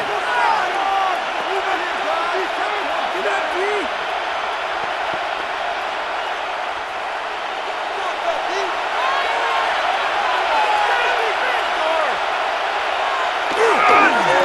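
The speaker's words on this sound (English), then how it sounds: "And they're going to hear it from this crowd." Football stadium crowd in the Madden NFL 26 video game, a loud continuous roar of many voices with scattered shouts and whistles that holds steady throughout and swells slightly near the end.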